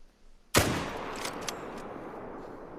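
A hunting rifle fires once at a buck at Layton Lake in a hunting video game: a single sharp, loud crack rings out, followed by a long rolling echo that fades slowly over the next two seconds.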